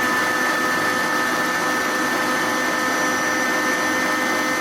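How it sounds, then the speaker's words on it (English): An electric mixer beats egg whites in a mixing bowl for a rose-water pound cake, a steady, loud continuous whir with no pauses and no talking. "we're going to beat our egg whites"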